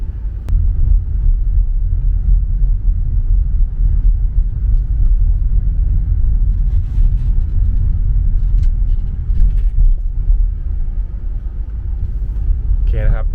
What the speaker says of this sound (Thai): ในส่วนของการขับขี่ คันนี้ก็ ผมต้องบอกว่ามันขับดีเลยแหละ